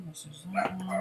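A pet dog gives a short bark or yip at close range beneath someone talking indoors while she shows crochet yarns.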